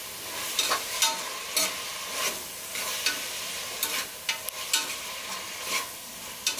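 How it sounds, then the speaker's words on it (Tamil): Coriander being stirred into chicken biryani masala in a pot: repeated scraping strokes at an uneven rhythm over a soft, steady sizzle, close and fairly quiet. "எல்லாத்தையும் சேர்த்து நல்லா மிக்ஸ் பண்ணி விட்டுக்கோங்க."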